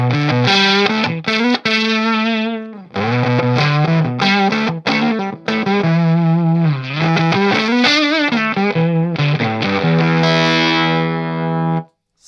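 A Stratocaster on its neck pickup, run through a Maestro Fuzz-Tone pedal, plays a continuous buzzy, sustained fuzz line with bending, wavering notes, loud and close throughout with no talking.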